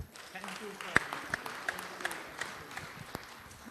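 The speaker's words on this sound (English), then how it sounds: "a round of applause for our panel" A brief round of applause for a panel at an EU–India green hydrogen forum, heard as scattered, fairly faint claps in a conference hall.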